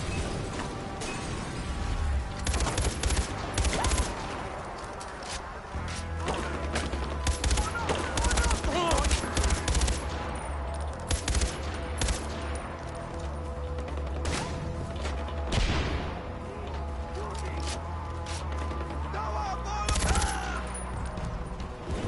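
Far Cry 4 on PS4 fills with dense, continuous gunfire: rapid automatic bursts and sharp shots over a loud game soundscape, with scattered impacts and no pauses for over twenty seconds.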